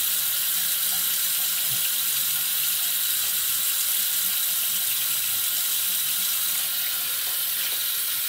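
A shaving brush is rinsed under a running bathroom tap, giving a steady, close splashing stream of water into the sink for the whole stretch with no talking.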